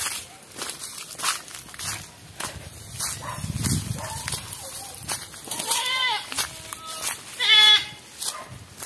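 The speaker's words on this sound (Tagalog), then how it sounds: "May kambing mga idol." Goat bleating near an abandoned house in the woods, several wavering, nasal bleats that are fairly close, mixed with footsteps through undergrowth and outdoor rustling, with no talking.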